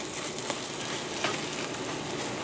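Egg omelette with onion sizzling and frying steadily in a cast iron pan, a close, continuous crackle with a few sharper pops.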